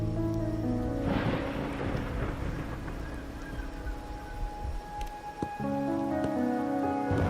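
Rain and thunder in the video game Wuthering Waves, a constant patter of rain under a rolling thunder rumble that swells near the start and booms again later, with background music tones throughout.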